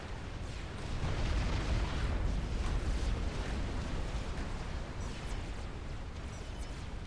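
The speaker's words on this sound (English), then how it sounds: "Large amount of missile launcher spam here." Rapid missile launcher barrages and explosions in a Supreme Commander: Forged Alliance Forever 64-player free-for-all battle form a dense, continuous rumbling roar of blasts that swells and then holds steady.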